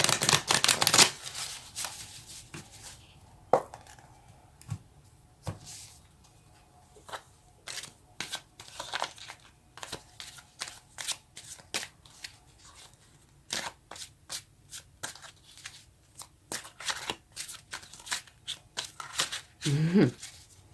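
Tarot cards being shuffled and snapped, a long run of sharp, irregular riffling bursts and clicks close up, with quiet gaps between and a brief voice near the end.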